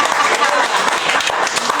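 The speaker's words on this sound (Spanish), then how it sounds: "aparte un aplauso grande a Raúl que estuvo ahí." A short burst of dense clapping from a crowd, loud and continuous throughout.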